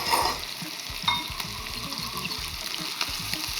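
Sweet-marinated pork steak fries in a pan with a continuous close sizzle and crackle, while faint intermittent stirring or scraping runs underneath.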